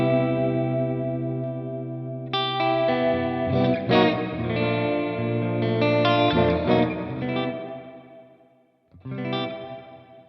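Chords played through an M-VAVE MK300 multi-effects unit set to hall reverb, sustained and layered with shimmering effects. The notes ring out and die away into a long reverb tail before a new chord enters, with no talking.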